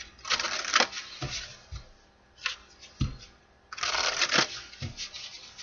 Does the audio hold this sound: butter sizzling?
no